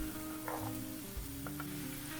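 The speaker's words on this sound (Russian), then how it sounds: "Наливаем в сковороду немного растительного масла" Vegetable oil sizzles and crackles steadily in a frying pan as onions cook, with a few light clinks of a utensil partway through.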